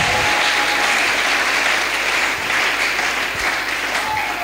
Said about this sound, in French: Vous pouvez acclamer pour la gloire du Seigneur Jésus